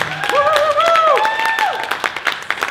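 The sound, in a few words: applause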